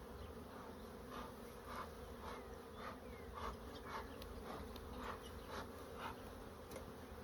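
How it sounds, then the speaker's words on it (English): Bees buzzing steadily during a spring inspection of a new beehive as one bee is let out of a queen cage, with a soft continuous drone and repeated brief louder passes close by. "Let that bee get out."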